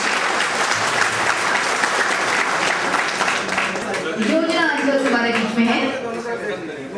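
Applause fills the room at a cabinet meeting, many hands clapping steadily at first and then thinning out as a voice speaks over the tail end.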